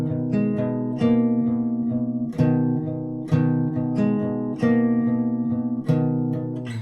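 Close, clean guitar plays part 3 of a song, fretted bass notes on the low string with plucked upper strings in a repeating fingerpicked pattern and regular accents, no voices.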